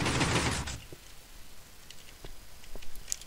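A hidden piston door in Minecraft opens with one loud mechanical burst at the start, then a few faint ticks and clicks follow.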